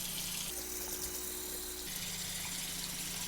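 Steady rush of water pouring from a tap, continuous and close, with a faint humming tone joining in for a second or so midway.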